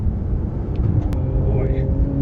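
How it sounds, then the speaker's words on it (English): Inside a 2018 Porsche 911 GT2 RS on the move, a loud low engine and drivetrain rumble with a faint whine from the rear transaxle gears rising in pitch, under someone talking. "Hear the gears in that rear transaxle."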